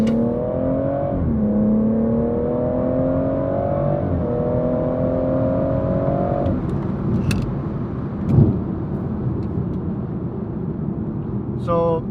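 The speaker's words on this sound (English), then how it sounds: "this engine just makes so much good noise" A BMW 440i engine revs up through a couple of quick upshifts while accelerating, its drone stepping up with each gear, then easing back to a cruising hum with a few small clicks and a brief thud later on.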